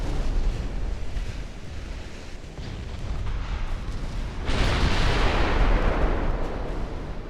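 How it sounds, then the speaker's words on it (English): Torpedo hits rumble against a warship in the naval strategy game Ultimate Admiral Dreadnoughts, a continuous heavy roar of booming explosions that swells louder partway through, with no talk. "I can admire how strong my ship is as it's eating its 19th torpedo."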